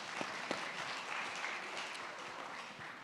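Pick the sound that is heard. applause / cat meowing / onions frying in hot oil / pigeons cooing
applause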